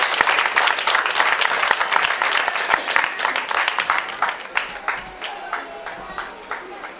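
Audience applause at a health-partnership ceremony: a dense, loud round of clapping from a large crowd, with sharp individual claps standing out, thinning slightly toward the end.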